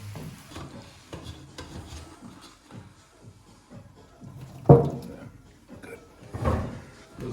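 Cooked cauliflower being drained in a home kitchen, with soft pouring and splashing, clanks of a pot and lid, and a couple of louder knocks near the end, mixed with faint background speech.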